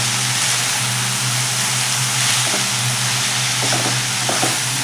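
Spinach for palak sukki bhaji stirred and cooked in a pan with garlic, chilli and dal, a steady loud sizzle with a few soft scraping touches of a spoon, no talk.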